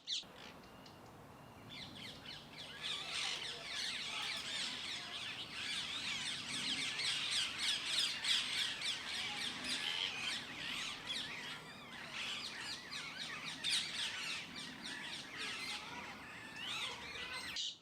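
Parakeets squawking in an outdoor spot in the capital, a steady flock chorus of shrill, rapid calls lasting throughout, fairly close and busy, with no talking.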